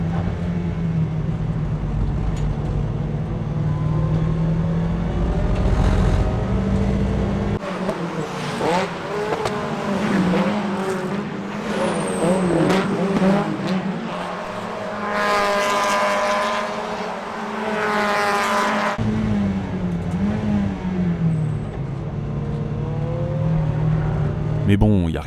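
Race car engines in a racing video game, a loud, sustained whine that rises and falls through gear changes and passes, with a voice talking over much of it.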